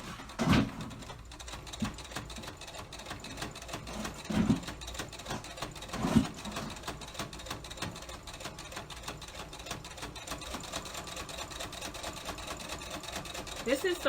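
Sewing machine stitching fabric for a face mask: a steady rapid mechanical whirring and clatter that runs throughout, with several louder thumps and pauses as the presser foot is lifted and the fabric is turned.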